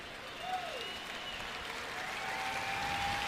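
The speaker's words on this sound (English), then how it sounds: "Crowd on their feet applauding Cameron Sheffield as he's taken to the locker room." A stadium crowd of Chiefs fans at a 2010 preseason football game stands and applauds an injured Chiefs player, Cameron Sheffield, as he is taken to the locker room. The clapping is broad, steady and sustained, with a faint whistle on top.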